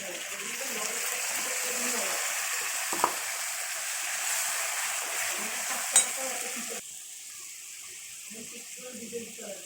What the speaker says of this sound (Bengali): এখন আমি এই মশলাটা বেটে রাখা মশলা দিয়ে দিচ্ছি